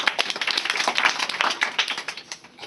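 A group of schoolchildren, about 85 students in a classroom, clapping together in a quick, loud burst of brisk hand claps that tapers off after a couple of seconds.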